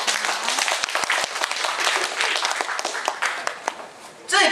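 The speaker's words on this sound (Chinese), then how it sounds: "大家给我鼓掌一下好不好？" Audience applause at a lecture on names and health: a dense, steady crowd clapping that fills the whole stretch, slightly thinning near the end before a final louder flurry.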